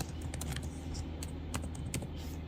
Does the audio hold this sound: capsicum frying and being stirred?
no